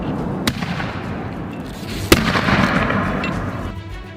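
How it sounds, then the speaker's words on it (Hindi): Two sharp bangs of explosions ring out a couple of seconds apart in a dense forest, each followed by a rumbling echo over a steady, noisy background. "घने जंगलों में सिर्फ धमाकों की ही गूंज सुनाई दी"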